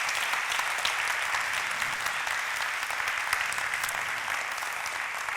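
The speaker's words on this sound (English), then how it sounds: "give a big round of applause for them" A conference audience at an Excel event claps in sustained, even applause, a dense wash of many hands that holds steady throughout without voices above it.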